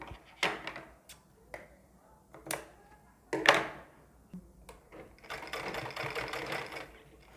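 A sewing machine stitches strips of newspaper for a ladies' suit sleeve design, with short start-stop bursts of needle clatter and light handling knocks, then a steadier run of stitching near the end.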